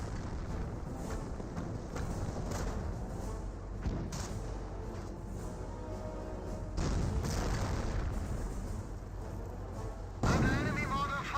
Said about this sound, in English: Enemy mortar fire.